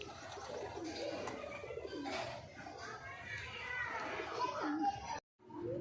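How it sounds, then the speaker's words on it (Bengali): Pigeons cooing and calling during a pigeon-flying match at a home loft, heard alongside children playing and chatter, with a brief silent gap near the end. "পায়রা চলছে, দেখো কোথা থেকে"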